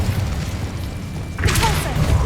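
An Incendio fire spell in Hogwarts Legacy bursts as a short, bright whooshing flare late in the clip, loud over dense low rumbling combat ambience.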